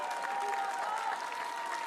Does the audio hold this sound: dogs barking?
no